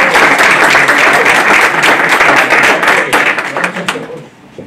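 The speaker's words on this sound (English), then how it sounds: "Please give Cliff a round of applause." An audience at a Brockton High School event in 2018 claps steadily and loudly for a few seconds, then the applause thins and fades away near the end.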